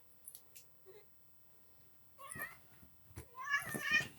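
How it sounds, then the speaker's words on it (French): Two cats playfully fighting indoors, with short meows, whimpers and scuffling bursts, faint at first then louder and busier toward the end, someone speaking softly at moments. "Doucement, doucement les chats."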